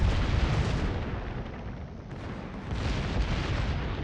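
A battleship in a naval combat game fires high-explosive shells, producing a heavy rumbling boom that rolls on continuously, loud and dense with no voices.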